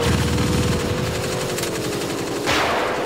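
Automatic machine gun fire in the vehicular combat game Chaos on Wheels: a loud, continuous stream of rapid shots with an engine-like drone underneath and a sharp burst near the end, no talking.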